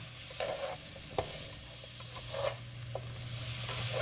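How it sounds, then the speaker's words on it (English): Kielbasa frying in a pan during deglazing, a steady soft sizzle with a spoon scraping and stirring in short strokes every second or so. "We're gonna deglaze that."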